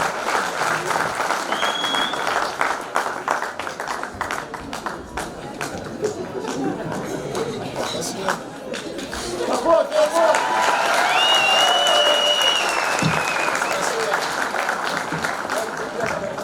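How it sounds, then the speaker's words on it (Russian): An audience at a university celebration of Turkmenistan's Neutrality Day applauds steadily in a hall, with sustained dense clapping, crowd murmur and occasional voices, swelling louder in the second half. "Давайте аплодируем."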